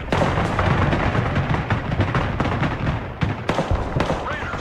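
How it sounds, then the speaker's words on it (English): Bomb strike in the video game Broken Arrow, a rapid string of heavy explosions and booms rumbling loudly and continuously, with a voice briefly audible underneath. "Little bomb strike."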